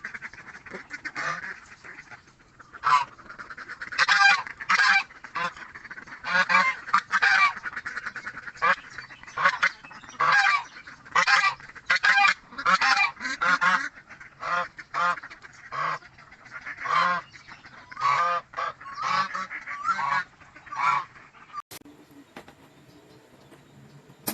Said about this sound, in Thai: ยายมาปล่อยเป็ดจ้า